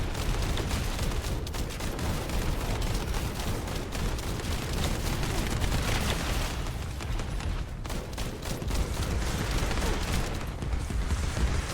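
Sustained heavy gunfire unloads on a target in the video game The First Descendant, a dense, loud and unbroken barrage of rapid shots and impacts that lasts the whole time with no talk on top.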